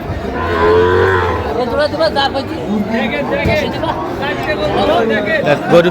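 Cattle at a busy livestock market where Shahiwal bulls and calves are sold, with a loud nearby moo over constant crowd chatter and people talking.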